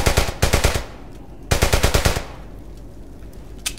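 Automatic gunfire in the World War II shooter game Brothers in Arms: Hell's Highway comes in two loud, close bursts of rapid shots. A quieter stretch falls between them, and a single sharp shot lands near the end.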